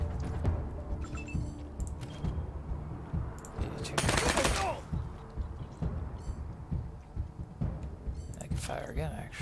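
Automatic gunfire bursts from a turn-based firefight in the video game Wasteland 3, a dense loud burst near the middle and scattered shots elsewhere, mixed under steady game sounds and talk.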